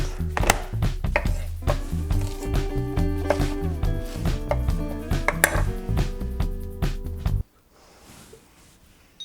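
Rhythmic knife chopping of an onion on a cutting board, steady rapid knocks with clinking overtones, with a soft rustle and no chopping after the chopping stops near the end.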